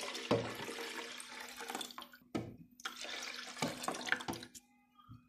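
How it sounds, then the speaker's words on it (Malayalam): Water, about one and a half glasses, poured into a mixer jar that already holds milk while making a cold Boost drink: a fairly quiet, steady splashing pour with a few brief breaks. "അതിലേക്ക് ഒന്നര ഗ്ലാസ് വെള്ളം ഒഴിക്കുക,"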